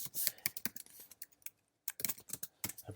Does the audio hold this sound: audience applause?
no